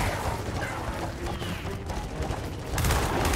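Dense, loud gunfire in the video game Gears of War 4 as players shoot at a snatcher, continuous rattling bursts with heavy impacts and a sharper surge of shots near the end.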